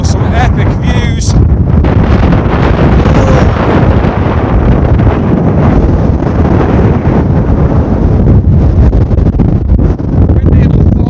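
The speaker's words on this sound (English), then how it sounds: "hope you can hear us, the wind is insane" Powerful wind on a Lake District mountain summit roars and buffets the microphone continuously, a loud, dense rumble with voices partly buried underneath.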